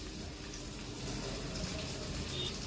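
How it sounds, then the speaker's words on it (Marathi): Water is poured into gram flour for cooking in a Malvani-style home kitchen, a steady, continuous splashing rush that is close and unbroken. "आपल्याला ह्यामध्ये पाणी घालून घ्यायचं आहे"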